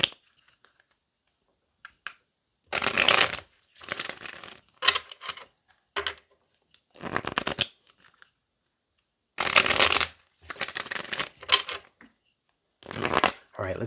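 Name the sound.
tarot cards being shuffled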